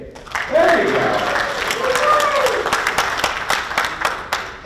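Seminar audience applauding themselves, a broad wash of clapping with a voice speaking over it throughout.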